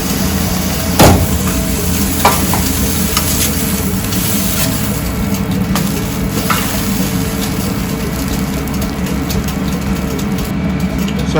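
Smash burger patties cook on a flat griddle, giving a steady, loud sizzling hiss that runs throughout with a few sharp taps and clicks near the start.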